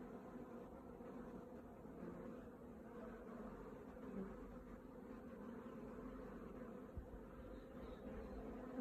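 A swarm of honey bees buzzes faintly around a hive fitted with Langstroth frames, a soft continuous hum heard at a distance and holding steady throughout, with no one speaking.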